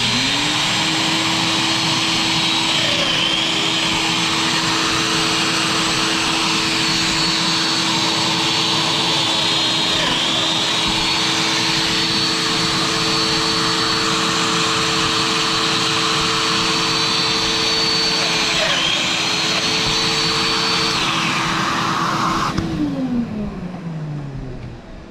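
A shop vacuum runs steadily at a loud, close, constant whine for about twenty seconds before switching off and winding down.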